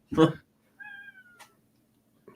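A male cat meows at a door wanting to be let in, a single drawn-out tonal meow after a brief loud burst of other noise, with a short faint sound at the end.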